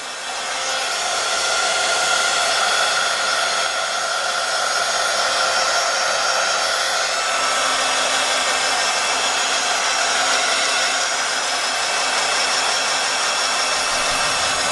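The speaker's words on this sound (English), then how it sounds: "You want to make sure and don't hold your heat tool in the same spot too long." A handheld heat tool blows steadily while drying ink and acrylic paint on a craft tag, a loud, constant whooshing fan hiss after a brief start, with no talking.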